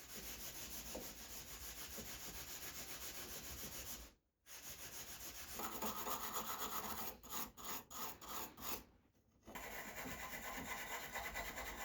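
Steady abrasive rubbing as an abrasive pad scrubs the metal parts of a rusty block plane, a continuous raspy scrubbing with a few brief pauses and short choppy strokes near the end.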